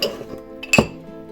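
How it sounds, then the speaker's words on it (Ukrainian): Small glass tumblers knock together in one sharp, close clink amid quiet handling noise, with no talking. "Купила в Аврорі ось такі скляночки."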